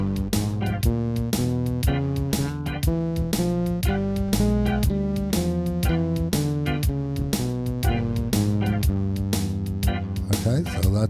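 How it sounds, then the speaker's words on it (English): A half step, whole step diminished scale played as a steady run of evenly spaced, clearly struck notes, loud and close with no talking. "is the half step, whole step diminished scale"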